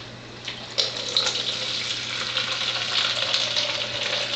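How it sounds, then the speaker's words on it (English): Water runs steadily from an Enagic water ionizer, a continuous hissing stream with no talking, close by and even in level throughout. "so I'm going to get some water in here"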